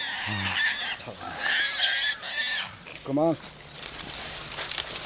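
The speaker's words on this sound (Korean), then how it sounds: "사냥개와 멧돼지 소리가 한데 엉켜 온 산을 울린다." A wild boar and hunting dogs fight on a mountainside after the boar is shot, with scattered squeals and yelps mixed into a rough din while someone talks over the noise.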